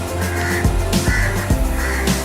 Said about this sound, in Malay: Burung gagak ya? Hitam. Banyak di sini.